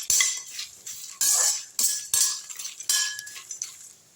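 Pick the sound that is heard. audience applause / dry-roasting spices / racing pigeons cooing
dry-roasting spices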